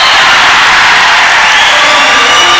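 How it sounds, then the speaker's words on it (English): A basketball crowd erupts after a great finish in a Flames versus Townsville Fire semi-final, a loud, sustained roar of cheering that fills the whole clip. "the crowd erupts with a great finish there"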